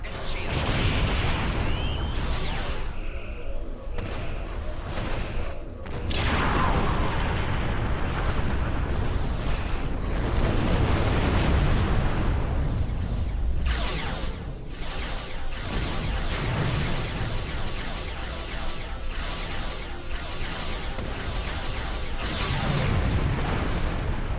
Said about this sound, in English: dreadnought is concentrating fire on the Tholian flagship